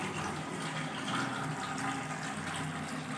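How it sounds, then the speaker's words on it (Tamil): Cold water runs steadily from the outlet of a Mr.SHOT 2.0 instant water heater left in free flow, a continuous close splashing rush with no break. "ஸோ இப்போ கோல்டு வாட்டர் வருது."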